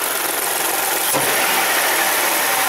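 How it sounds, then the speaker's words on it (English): A Kia Sedona 3.5 V6 engine idling after new plugs, wires and coils, a steady, even mid-range hum with broadband hiss and no misfire pops, continuous and fairly close. "Engine feels nice and smooth."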